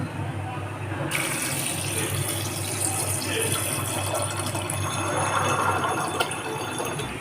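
Water runs steadily into a pressure cooker holding peas, a continuous splashing pour, fairly close.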